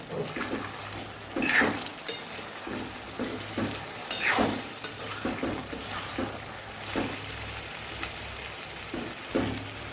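Garlic-spiced potato chips frying in a pan, a soft continuous sizzle broken by several scraping stirs that rise and fade every couple of seconds, close and moderately loud with no talking.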